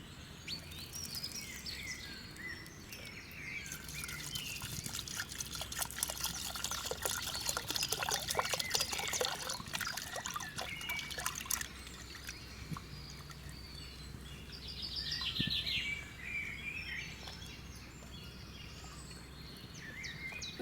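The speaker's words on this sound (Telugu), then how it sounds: "ఈ నీరంతా ఉంచేసి ఇప్పుడు శుభ్రం కడుక్కుందాం." Clay cooking pot being washed with water in a village setting, with continuous trickling, splashing and pouring that swells midway, while birds call in the background.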